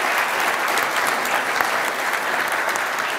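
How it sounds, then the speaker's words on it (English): Conference audience at an AWS re:Invent education session breaks into applause, a dense, steady round of clapping heard alone for a few seconds. "I'd like you guys to join me in a round of applause."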